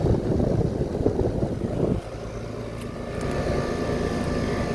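A Trane XR14 central air conditioner, the larger unit of a dual zone pair, running in cool mode: a loud close fan and compressor roar that drops abruptly partway, then settles into a steadier, quieter hum.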